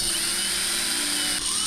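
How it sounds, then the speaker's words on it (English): A step drill bores holes into a telephone housing, giving a steady high-pitched whine that holds continuously, close and loud, with a brief dip near the end. "I like to use a step drill for making the holes"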